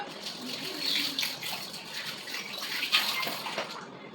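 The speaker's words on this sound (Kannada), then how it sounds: "ಇವಾಗ ನಾನು ಪಾತ್ರೆ ತೊಳಿತಾ ಇದ್ದೀನಿ" Dishes are washed under a running tap, with a steady splash of water and intermittent clinks and rattles of utensils being scrubbed and rinsed, fairly close and with no voices.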